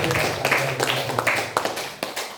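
An audience at a university community-service (KKN) programme event claps in a loose, scattered burst of taps close by, mixed with voices talking throughout.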